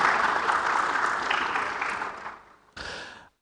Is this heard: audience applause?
yes